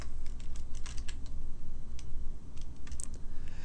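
Steady typing on a computer keyboard while filling in an online employment application form, with rapid clustered key clicks at close range over a low background hum, no talking.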